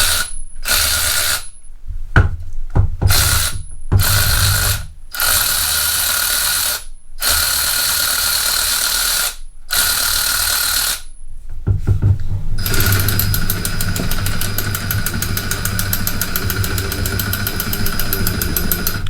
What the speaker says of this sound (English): So this is the Ratchet here.